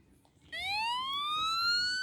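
A Minecraft Siren Head monster's rising siren wail starts abruptly and holds loud and steady, its pitch sweeping upward, with no talking.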